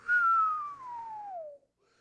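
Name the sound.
person whistling through teeth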